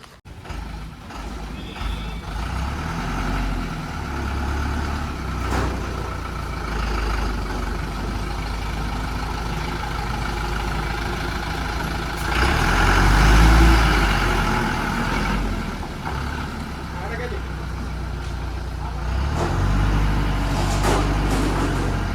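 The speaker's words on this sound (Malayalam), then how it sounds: "നമുക്ക് ഈ വണ്ടി എടുത്ത് ഇപ്പുറത്തോട്ട് ഇടാം കേട്ടോ" Truck being manoeuvred into a repair workshop, its engine rumbling steadily and swelling louder as it moves, with faint beeps and people talking in the background.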